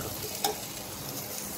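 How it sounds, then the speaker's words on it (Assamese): Dried fish sizzles in a hot wok while being stirred, a continuous close frying crackle with one sharp scrape of the utensil partway through. "ইপিনে কেৰাহীত শুকান মাছ ৱাও"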